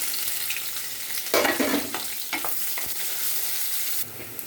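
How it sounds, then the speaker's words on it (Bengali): Onion, panch phoron and chana dal frying together in hot oil in a kadai, a close sizzle broken by louder bursts and scraping stirs, no talking. "5 ফোড়ন, পেঁয়াজ আর একটু ছোলার ডাল একসাথে ভাজা ভাজা করবো।"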